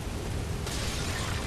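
Urns exploding in the video game Bloodborne, a dense, loud continuous roar of blast noise with a brighter surge partway through, alone without talk.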